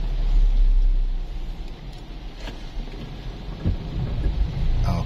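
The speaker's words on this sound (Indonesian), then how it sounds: "Wow, ini betul-betul hujan teman-teman ya." Heavy rain hisses steadily outdoors in a Minahasa village, with low thunder rumbling loudly at the start and a few sharp crackles later.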